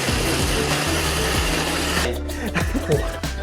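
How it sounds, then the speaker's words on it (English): A motorized blender whirs steadily, its pitch shifting as it churns a thick popcorn caramel milkshake mixture, with the motor note changing near the end. "I would go speed up that blender."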